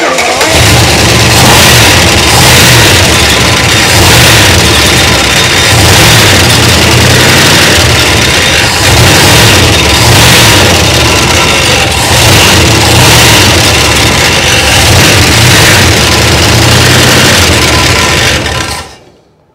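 An old 1962 Chrysler's engine runs loud and uneven for a long stretch with pulsing, rough variations, then stops at the very end.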